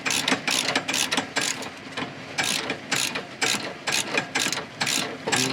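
A ratchet wrench clicks in quick bursts while bolts come off a Subaru car being taken apart, the fast metallic ratcheting loud and close, repeating in short runs with brief pauses between.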